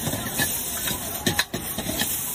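A street vendor in China stir-fries rice with soy sauce in a wok over a blue flame, giving a hissing sizzle with repeated scraping and tossing strokes, close and fairly loud.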